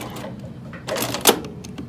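A sewing machine runs a short back stitch on a wristlet, giving a brief mechanical whir with a clicking burst in the middle, heard close up and alone.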